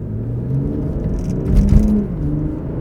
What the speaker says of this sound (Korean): 방지턱을 넘자마자 컴포트 모드에서 조금 가속을 해볼게요